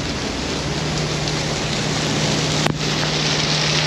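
Heavy downpour during a flood in Toronto, a dense, loud and steady roar of rain hitting a vehicle and pavement nearby, with a single brief knock partway through and a constant low hum.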